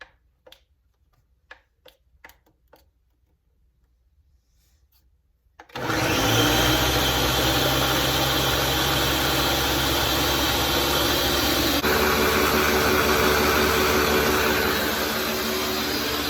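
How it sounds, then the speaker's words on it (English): After a few quiet clicks, an electric blender roars to life and runs loudly and steadily, its motor pitch shifting slightly midway. "I haven't used my blender in a while, but let's see."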